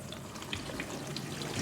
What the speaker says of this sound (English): you see the water moves backwards and forwards there as the machine actually goes through its cycle